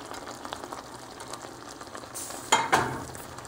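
Fideo noodles stirred while frying in a pan, a soft steady sizzle with scraping stir strokes, then a louder clatter near the end.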